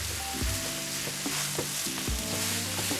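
Beef steak sizzling steadily in a hot pan as it is broken up and flipped, with a continuous loud fry hiss and periodic scraping and clunking of a utensil against the pan.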